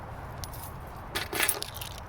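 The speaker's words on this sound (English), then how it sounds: "And I also have keys. And he has keys." Household keys jangle briefly in a quiet room, a soft metallic clinking burst near the end of the short stretch with low background hum.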